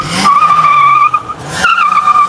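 A 1996 BMW E39 with a manual gearbox and M53 engine drifts hard, its tires letting out two long, loud squeals separated by a short break, with engine noise running underneath.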